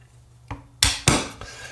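A metal punch taps a pin out of a Stoeger P350 shotgun trigger group: one light knock, then two sharp louder metallic strikes close up, followed by a faint tap.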